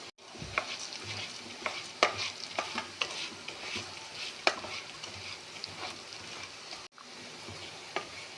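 Rice and lentils for pongal are stirred in ghee in a pan, with repeated scraping spoon strokes and a soft sizzle, close and fairly quiet, ending in a brief pause.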